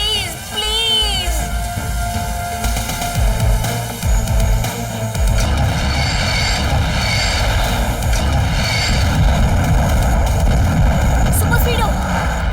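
A cartoon attack drone whirs steadily through a dense, busy scene, its engine-like drone running for the whole stretch under frantic animated voices and bright effects.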